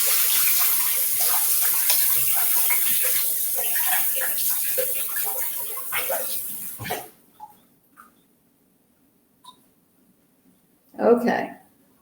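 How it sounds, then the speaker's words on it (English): Running tap water splashes steadily as hands are rinsed in a kitchen, then the flow stops and a few faint clinks and a brief final splash follow. "So I'm going to rinse my hands off"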